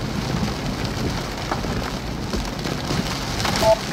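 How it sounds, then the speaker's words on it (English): Heavy rain pouring during a storm chase in Illinois, a dense steady close hiss of drops drumming on a surface, loud and unbroken throughout, with no voices. "I don't know how we'll be able to see anything with this rain that's over us from the south part"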